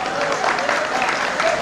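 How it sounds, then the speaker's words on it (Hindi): Audience applause at a Hindi poetry recital during the Navsrijan Mahotsav 2015 festival, a steady wash of clapping that holds at an even level throughout the short stretch. "अगर अच्छा लगे तो एक बार ताली भी बजाइए।"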